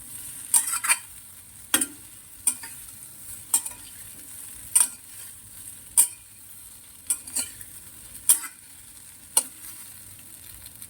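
A vaghar tempering for muthiya dhokla sizzles with a steady hiss in a pan while a spoon scrapes and stirs through it in irregular, close clinks.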